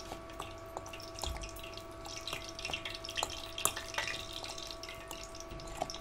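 Food frying in a hot pan while a ready-mix snack is made: a steady low sizzle with scattered crackles and pops, close and quiet, with no talking.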